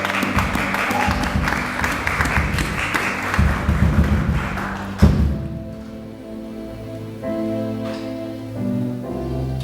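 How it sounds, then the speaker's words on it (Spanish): A church congregation claps loudly and steadily for about five seconds, ending in a heavy thump, before a sustained organ-like musical tone takes over. "Dale un fuerte aplauso al Señor."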